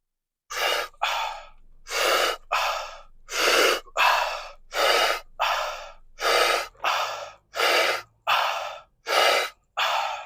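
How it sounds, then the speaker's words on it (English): Wim Hof breathing exercise: a run of about a dozen deep, forceful breaths, each a loud close rushing inhale or exhale, paired in a steady rhythm with short silent gaps between them. "Some Wim Hof breathing for you."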